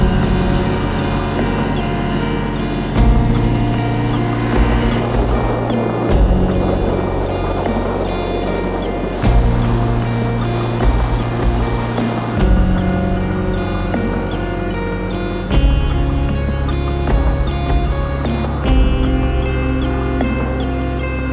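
A boat motor running steadily in a remote area after a stubborn start, giving a loud, continuous droning hum with shifting tonal layers that step in pitch every few seconds, with no voices.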